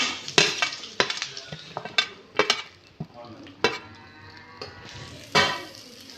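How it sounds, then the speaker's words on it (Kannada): Onions and ginger frying in a pan for a rustic goat head and trotters sambar, with loud spoon clanks and scrapes against the metal pan over a soft sizzle, close by. "ಇದೆಲ್ಲ ಚೆನ್ನಾಗಿ ಫ್ರೈ ಮಾಡ್ಕೋಬೇಕು ಫ್ರೈ ಆಗಿದೆ"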